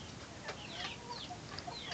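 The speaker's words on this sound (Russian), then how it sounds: "Вот так квочка без цыплят." Broody hen in a cage with chicks, clucking softly with a few short chirps and squawks over a quiet background, faint and near.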